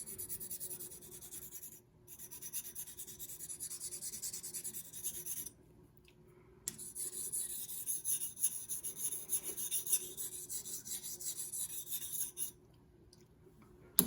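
A blade is sharpened freehand on a single sharpening stone, producing faint, steady rasping strokes in runs separated by short silent pauses, close and quiet.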